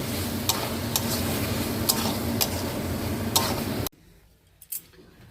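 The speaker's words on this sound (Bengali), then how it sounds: "টক দই দিয়ে নাড়িয়ে এবার নামিয়ে নেব" Poppy seed dish with sour yogurt being stirred in a pan: steady scraping and stirring with a few sharp clicks for about four seconds, then near silence with a couple of faint knocks.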